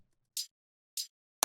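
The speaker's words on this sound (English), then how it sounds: "It's kind of an organic shaker" An organic metal-style shaker sounds three short, crisp bursts spaced evenly apart, quiet and isolated against silence.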